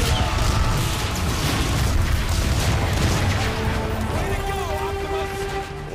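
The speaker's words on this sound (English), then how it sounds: "Press R2 to enter targeting mode, and then press X to direct an artillery strike." Artillery strike explosions in the video game Transformers: Fall of Cybertron, a dense, continuous rumble of booms and bursts filling the whole stretch, with mechanical tones surfacing near the end.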